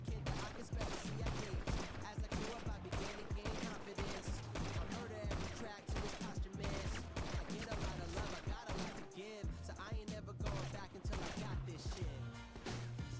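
Dense, continuous gunfire in a GTA V NoPixel shootout, rapid shots overlapping throughout with players shouting over the chaos.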